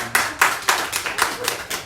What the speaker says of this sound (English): Sure, a round of applause.